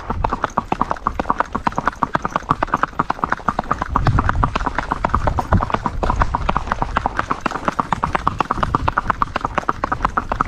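Horse hooves clip-clop steadily at a walking gait, a filly being schooled, with dense regular footfalls close by and continuous throughout.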